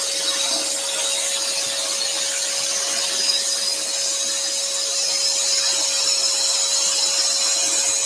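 A scroll saw cuts a wood lantern piece while a small craft extractor pulls suction at the table, giving a steady, close, unbroken whirring hiss with a faint constant whine and no talking.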